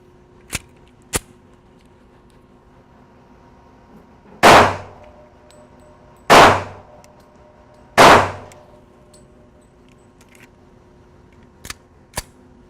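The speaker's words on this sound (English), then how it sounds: "the next gun we're going to shoot is a SIG 1911 Scorpion with 230 grain 45 ACP" Three loud gunshots from a SIG 1911 Scorpion firing 230 grain .45 ACP rounds at a bulletproof diaper bag, evenly spaced sharp cracks with short decaying tails, framed by faint metallic clicks before and after.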